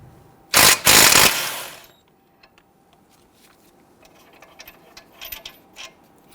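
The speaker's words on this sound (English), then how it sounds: "We're going to remove our 22mm bolts on the back side here." An impact gun rattles out a 22mm caliper bracket bolt on an Infiniti G37 front brake in one loud burst of about a second, followed by quiet clinks and small taps of tools and parts.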